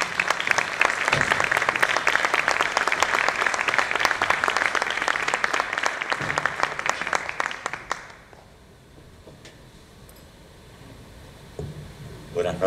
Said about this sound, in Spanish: Un aplauso para recibirlos.